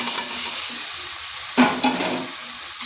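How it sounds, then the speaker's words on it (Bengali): Potatoes stir-fried with spices in a wok, with a steady loud sizzle throughout and a couple of quick spatula scrapes midway, no talking. "আলুগুলোকে মশলার সাথে একটু কষে নিতে হবে"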